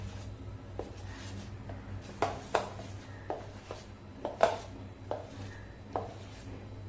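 Eno being stirred gently into besan dhokla batter in a bowl, with a spoon or whisk producing soft, irregular clicks and taps against the bowl over a low steady hum.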